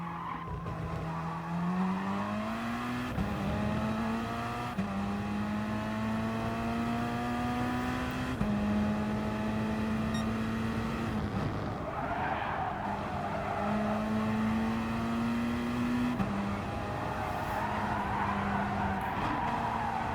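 Gr.3 race cars circling Fuji in Gran Turismo Sport, engines droning steadily with pitch climbing through gear changes, and tires squealing through corners, loud and continuous with no talk.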